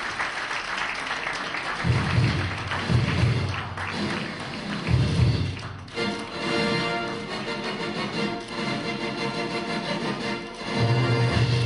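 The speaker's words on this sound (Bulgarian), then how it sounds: "Браво! Аплодисменти!" An audience at a fashion award ceremony applauding, a dense sustained wash of clapping with heavy low thuds and a bright hiss running the whole length.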